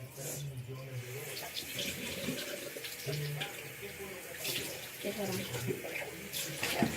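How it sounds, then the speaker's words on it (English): A bathroom faucet runs steadily while hands are washed under it, the close splashing water continuous throughout with a person talking over it. "I'm just washing my hands."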